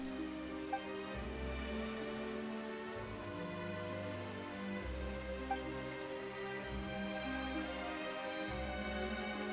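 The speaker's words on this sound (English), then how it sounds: "Why is it raining all of a sudden?" Rain begins suddenly and keeps falling, a steady hiss of drops on a surface with low rumbling swells beneath, continuous and fairly even throughout with no voices.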